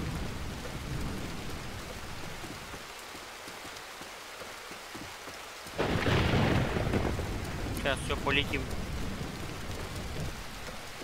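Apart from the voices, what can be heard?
rain and thunder in video game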